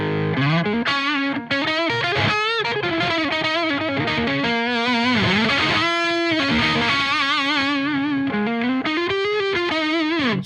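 Distorted electric guitar through a Marshall Plexi tube amp plays tight, mid-focused chugging riffs and sustained chords, loud and continuous with no talking.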